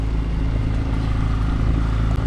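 A boat motor running steadily, a loud, close, continuous droning hum with low tonal bands and no breaks, in rain.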